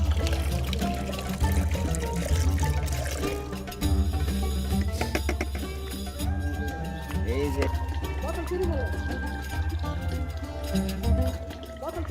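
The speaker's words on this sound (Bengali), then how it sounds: "ডাব এবং গোলাপ জল ও দুধ একসাথে মেশানো হচ্ছে" Coconut water, rose water and milk poured and mixed together at the Meherullah Shah Urs gathering in Meherpur, a steady liquid pour heard beneath continuous talk and crowd noise.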